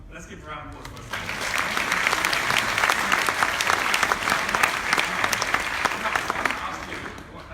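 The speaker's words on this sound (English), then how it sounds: "let's give a round of applause for" A live audience breaks into applause, a dense, steady clapping that swells after the first second and holds for several seconds before easing slightly.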